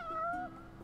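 Cat in Final Fantasy 15 gives one short, fairly faint meow with a gliding, slightly falling pitch, heard on its own.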